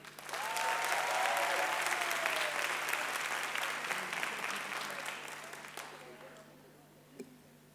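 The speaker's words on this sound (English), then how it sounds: "Ladies and gentlemen, your hands and my hands to welcome Mr. Yaro Pathan." Audience at a college graduation and diploma ceremony breaking into loud, dense clapping that swells quickly, holds, then gradually thins and fades, with a voice briefly audible over it.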